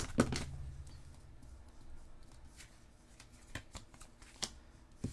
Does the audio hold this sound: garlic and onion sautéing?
no